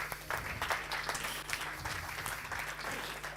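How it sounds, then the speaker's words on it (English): An audience at a live event gives a round of applause: steady, dense clapping from many hands, sustained and fairly close for the whole stretch, with no voice over it. "he deserves a great round of applause for you guys"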